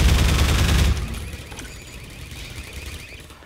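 Gunfire from the video game Half-Life 2 starts with a dense, loud burst of rapid shots for about a second. Fainter, sporadic shots and background game noise follow.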